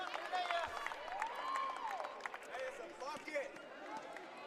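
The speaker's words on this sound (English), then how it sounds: "You can probably hear the noise in the background, folks, but we have an incredible crowd here tonight." Crowd noise fills a gym during a men's college basketball game between Catonsville and Montgomery College, a steady roar of cheering and clapping with shouts rising over it throughout.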